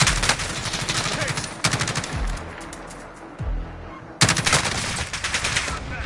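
Gunfire from a Call of Duty video game, with loud bursts of rapid automatic shots in two clusters separated by a quieter stretch holding a few single heavy booms.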